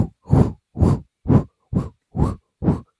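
A voice imitates a baby's heartbeat from a fetal monitor, making seven evenly spaced breathy whooshing pulses that are close and fairly loud, with short silences between them.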